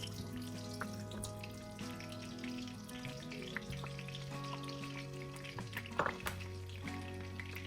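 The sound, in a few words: frying meatballs in a wok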